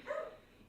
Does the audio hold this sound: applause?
no